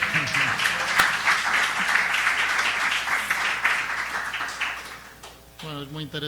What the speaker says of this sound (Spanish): Bueno, ahora sí el aplauso